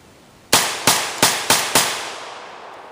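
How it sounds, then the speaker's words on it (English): A Vepr-12 shotgun fires five loud, close blasts in quick succession at a target, each crack followed by a short echoing decay. "try to soak up all the recoil from your vepr-12 shotgun"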